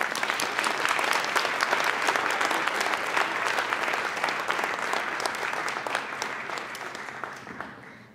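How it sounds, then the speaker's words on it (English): A crowd at an elementary school ribbon-cutting ceremony gives a sustained round of applause, steady and fairly loud, slowly tapering toward the end with no talking over it. "Let's give them one more round of applause."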